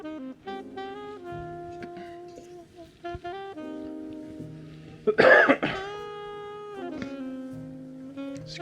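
A single sharp cough bursts out near the mic, loud and brief, over a steady background of music-like tones.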